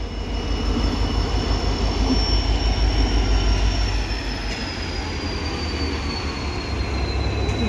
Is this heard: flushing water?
no